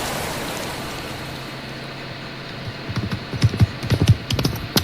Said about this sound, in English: O cavalo de Zelda.